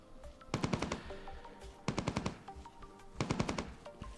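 Three rapid bursts of automatic gunfire from the Entropia Universe game, each a fast rattling string of shots, evenly spaced and fairly loud, with no speech over them.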